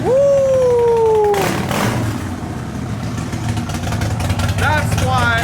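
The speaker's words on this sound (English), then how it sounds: "That's why I love Harleys, bro. I will always love Harleys, man. Just the sound of it, it's so freaking obnoxiously beautiful." A Harley-Davidson motorcycle engine rumbles steadily and loudly nearby for several seconds, with a voice heard over it.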